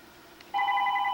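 A telephone starts ringing partway through, a steady electronic ring that comes in suddenly and holds loud and unbroken to the end, with a quiet room before it.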